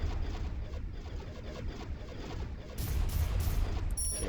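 Space turrets blasting away in the video game Starpoint Gemini, a steady rumbling barrage of gunfire that grows heavier partway through, with no voices over it.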